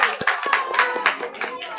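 Audience clapping at a children's 14 August program after a girl's speech, a lively, uneven patter of hands with distinct nearby claps standing out, fairly loud and close, with no voices over it.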